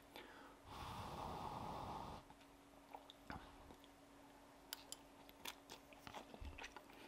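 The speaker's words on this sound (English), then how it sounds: "Let's give it a taste, see what it's like." Someone takes a bite of Huel hot and savoury spaghetti carbonara, with a burst of close, soft mouth and handling noise followed by quiet chewing and small clicks.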